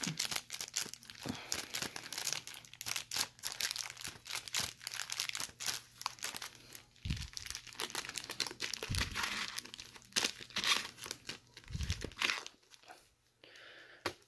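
Bakugan packs being opened and unwrapped, with busy close crinkling and crumpling of packaging punctuated by sharp tearing bursts and a few low thumps, no talk.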